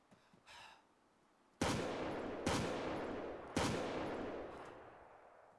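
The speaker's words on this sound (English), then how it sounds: "there's also guys shooting at us from the north northeast" Gunfire in the game Arma 3: after a faint distant pop, three loud sharp shots ring out about a second apart, each leaving a long echoing tail, with no talking.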